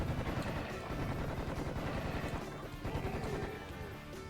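Rapid machine gun fire in the first-person shooter Serious Sam: The First Encounter, a dense rattling burst of shots that continues almost without pause, fairly quiet in the mix.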